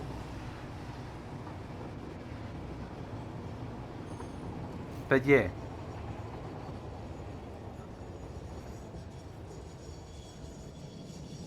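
A train runs on tracks in the factory-building game Satisfactory, a steady low rumble with a brief louder squeal or horn-like burst midway, under quiet talk.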